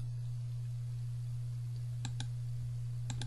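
A computer mouse gives two quick double clicks, sharp and fairly close, over a steady low electrical hum with no talking.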